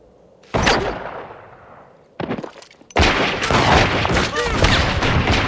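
Gunfire from a Firefly episode scene, with loud sharp shots and sustained bursts that fill the space, mixed with dramatic sound and some voices.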